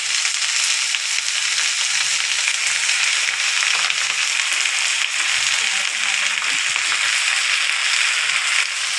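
Jute leaves frying in hot oil with onion and garlic, a loud, continuous dense sizzle with crackling spits running unbroken from start to finish.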